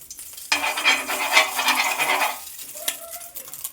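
Oil sizzles and crackles on a very hot tawa griddle before an omelette goes on, a dense hiss lasting about two seconds with a few small clinks after as it dies down.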